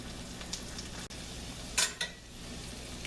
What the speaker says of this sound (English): Now I have the onions cooking, so we're going to go right from the pot